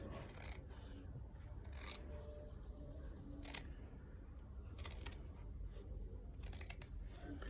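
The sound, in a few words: scissors cutting fabric for a collar roll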